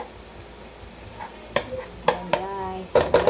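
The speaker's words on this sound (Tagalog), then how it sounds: "nagigisa na rin po tayo ng ating bawang" Garlic sautéing in oil, a low background sizzle with a few sharp metallic scrapes and clinks of a utensil against the pan growing louder near the end, close by and without talk.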